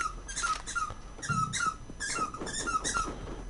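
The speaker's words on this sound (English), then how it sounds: "my dog is grumbling about the fact that the other dog is playing with a squeaky toy" A dog squeezes a squeaky toy with rapid, repeated high squeaks in short bursts, while a second dog grumbles low and faintly underneath.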